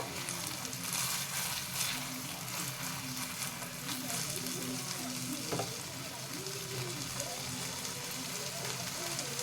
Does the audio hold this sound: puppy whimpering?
no